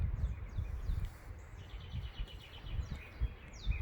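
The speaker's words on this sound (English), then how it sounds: "the birds out here are so loud" Suburban birds chirp and tweet in short, repeated high calls over a rumbling outdoor background of wind or distant noise, heard from a few metres away.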